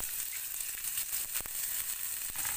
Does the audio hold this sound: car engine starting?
no